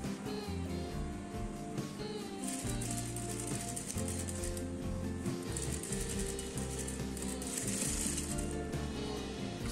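A sewing machine stitches bias binding onto fabric with a continuous mechanical whirring and clatter that speeds and slows in short runs, quiet and nearby.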